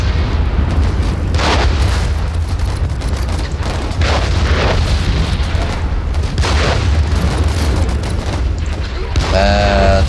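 A tank is blown up in a World War I trench-warfare strategy game, heavy booming explosions rolling over constant battlefield rumble and gunfire, loud and sustained, with a short musical chime near the end.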